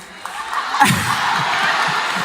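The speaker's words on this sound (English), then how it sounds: "Clap it up, clap it up." A studio audience bursts into applause and cheering after a quiet moment, then keeps up a steady, loud wash of clapping and crowd noise to the end.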